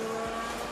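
A Formula 1 race car screams past at full throttle during Abu Dhabi Grand Prix practice, a loud, high-pitched sustained engine wail with steady tonal harmonics across the whole moment.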